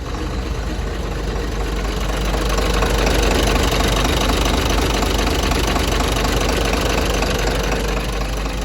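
A Komatsu FD135T-6 13-ton forklift with side-shift forks and automatic transmission idles nearby, its engine giving a loud, steady, rough low rumble with a knocking texture throughout.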